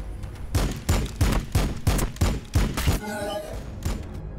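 Heavy gunfire from Warhammer 40k Battlesector thumps in a steady series of about eight evenly spaced, booming shots, close and loud, followed by a brief mechanical rattle and one last faint report.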